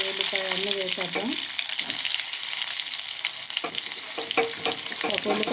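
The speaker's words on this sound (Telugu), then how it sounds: "తాలింపులు చిటపట ఉన్నప్పుడు ఇంకా ఉల్లిపాయ అన్నీ వేసేద్దాం." Onion added to hot tempering oil for Andhra gongura dal, a loud, dense close-up sizzle with spattering pops and stirring throughout, and a brief voice near the start.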